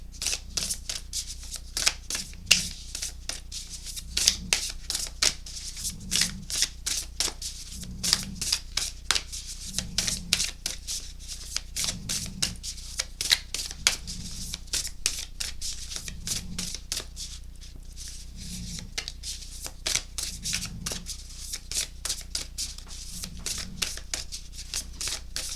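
Oracle cards are shuffled again and again, crisp riffling and flicking bursts repeating in a fairly even rhythm with soft thumps between, close and moderately quiet with no speech.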